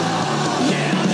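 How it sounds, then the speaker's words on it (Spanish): A crowd shouts and cheers loudly at a Eurovision afterparty in Zagreb, a dense continuous roar of many voices. "Público gritando"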